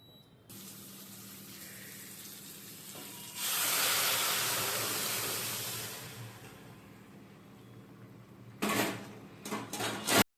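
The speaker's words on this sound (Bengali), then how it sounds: "আর এখানে আমি ইন্ডাকশানে ভেন্ডি সেদ্ধ করতে বসিয়ে দিলাম।" Okra boiling in a pot on an induction cooktop gives a steady hiss and rush of steam, swelling loudly midway then easing, followed by a few clattering bursts near the end.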